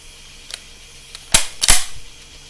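Two sharp, loud cracks from a .303 rifle, about a third of a second apart, preceded by a few faint clicks, with no talking.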